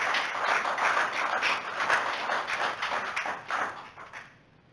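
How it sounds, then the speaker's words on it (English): A room of people at a city council meeting applauds steadily for several seconds, a dense, moderately loud patter of many hands that fades out toward the end. "I think I've never gotten a round of applause like that"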